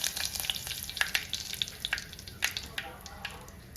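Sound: curry leaves sizzling in hot oil

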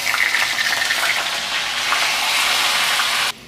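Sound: pumpkin pieces frying in hot oil

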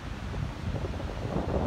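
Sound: wind noise at the beach

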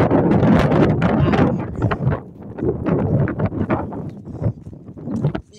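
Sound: wind blowing

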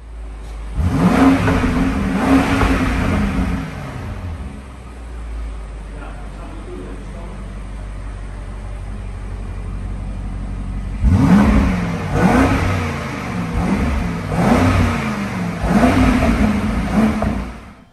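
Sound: Alpina XB7 petrol SUV engine revving

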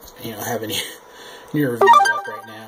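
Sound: phone ringtone

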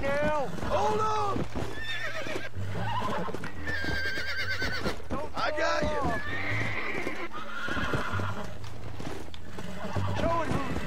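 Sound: horse neighing in video game Red Dead Redemption

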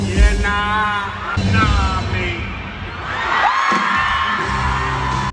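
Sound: concert crowd screaming and cheering

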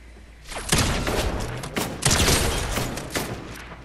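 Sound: pump shotgun shots in the video game Fortnite

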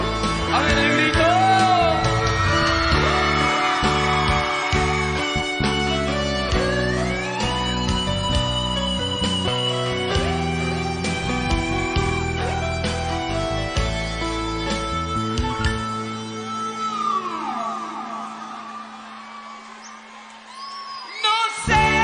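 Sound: concert crowd shouting

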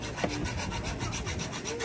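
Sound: hacksaw trimming a brake pad

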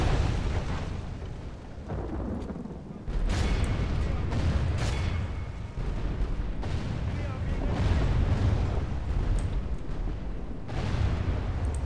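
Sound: artillery bombardment in Total War: Warhammer video game

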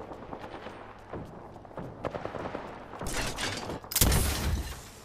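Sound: gunfire shooting at player in a video game

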